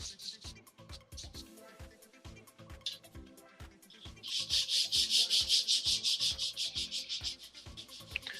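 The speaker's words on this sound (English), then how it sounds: "just sanding the pattern lines off of the edge" Steady back-and-forth rasping of sandpaper on wood, growing louder and more rhythmic partway through, close and dry with no voices.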